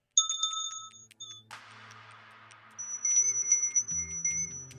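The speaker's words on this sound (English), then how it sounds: "Hang on, let me play the other bell." A bright bell tone rings with a few repeated strikes, then a scraping rustle, then another sustained ringing tone over low rumbling noise.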